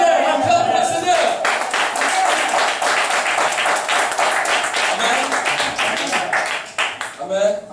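A church congregation applauds in dense, continuous clapping with some voices mixed in, loud and sustained, thinning out in the final second.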